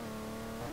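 A car engine in Street Legal Racing Redline holds a steady, droning rev for a brief moment, loud and close with no other sounds.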